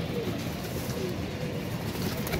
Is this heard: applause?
no